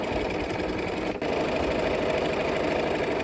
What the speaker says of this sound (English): Okay, let's sew.